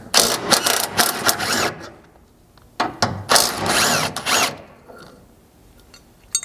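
Ratchet wrench with a 17mm socket backing off bolts on the rear bumper brackets of a Toyota Tundra, two bursts of rapid metallic clicking separated by a pause, close and loud with no talk.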